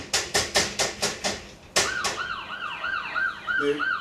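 A security fence alarm siren, first a series of rapid pulsing bursts, then a rising-and-falling wail repeating steadily, loud and close.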